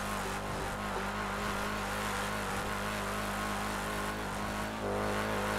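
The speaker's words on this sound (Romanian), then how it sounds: "se aude motorul ăsta și că e motor de la de Opel chinuit" A strained Opel car engine drones and revs continuously in the FiveM video game, a loud, steady mechanical hum with a slight surge near the end and no talk over it.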